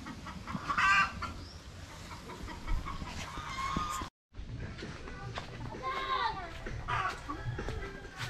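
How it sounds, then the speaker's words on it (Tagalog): A brooding hen with chicks in a wooded backyard gives soft, repeated clucks at close range, mixed with other fowl calls, while a person talks over it. "Yung manok na yan oh, yan pala yung naglilimlim dyan."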